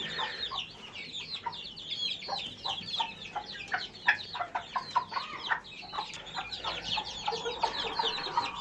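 A broody silver Sebright hen clucks in a run of quick, repeated low clucks, close and fairly clear over a quiet background, with a few sharper, higher notes mixed in.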